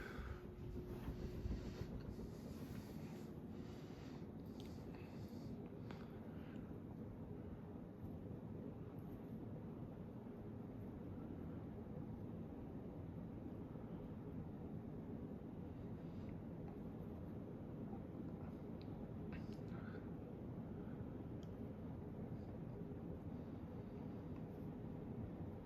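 A Casablanca Astro 62-inch ceiling fan with 14-degree blade pitch spins on high speed at about 170 RPM, giving a faint, steady airy whoosh with soft low rumble and no voices.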